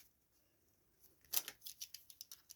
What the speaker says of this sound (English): I think I'm just going to cut a little bit off there.